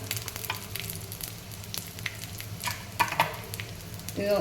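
One large onion frying in oil as the base of a paneer gravy masala, crackling sizzle with scattered pops and stirring scrapes close by, no speech.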